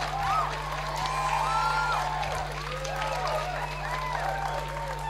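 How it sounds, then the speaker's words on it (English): Sustained audience applause and cheering for the ladies at an emcee-hosted evening event in Singapore, a continuous crowd roar with scattered whoops and a steady electrical hum beneath. "You can keep clapping if you want to clap some more for the ladies."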